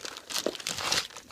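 A plastic bag crinkles and rustles as it is shuffled across a tabletop beside a jewelry-making bead subscription box, a steady run of close, crackly handling noise with no talking.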